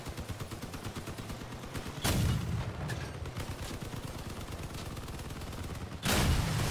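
Vehicle-mounted weapons firing in the Crossout combat game, a steady rapid clatter of shots with two heavier booming blasts standing out at separate moments, fairly close and with no talk over it.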